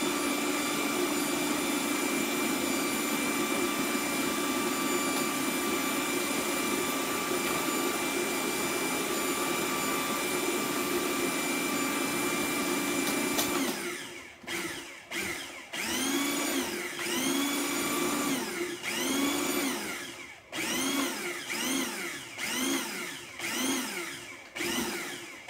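A blender or food processor pulses pumpkin pie filling with baking powder added. A steady, loud motor whir gives way to a run of short bursts, each spinning up and cutting off in an uneven rhythm.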